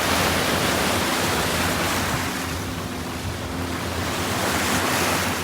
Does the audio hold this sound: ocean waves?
yes